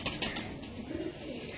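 Pigeons kept for sale coo softly in the evening, a low murmuring call repeating close by with no voices over it.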